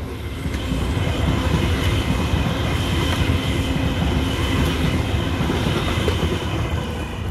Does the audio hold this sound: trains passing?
yes